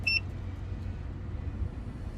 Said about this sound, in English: The fan has beeped.